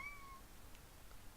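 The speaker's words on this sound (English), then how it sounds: "Sorry for my cat." A cat gives a faint, short meow followed by a couple of softer chirping calls over quiet room hiss, with no talking.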